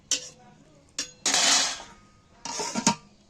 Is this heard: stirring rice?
yes